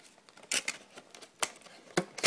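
Unboxing an Apple iPhone 5 charging dock: a few sharp crinkles and rustles of packaging and plastic, close and intermittent, with quiet handling noise between them.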